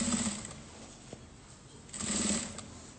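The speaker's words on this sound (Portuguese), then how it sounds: "vou fazendo essa costura" A sewing machine stitching a patchwork sewing machine cover at stitch length 3.5, running in two short whirring bursts with a quieter pause between, close and alone.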